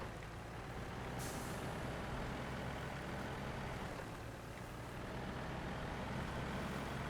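A heavy truck in SnowRunner rumbles steadily at low volume, its engine drone continuous, with a brief hiss near the start.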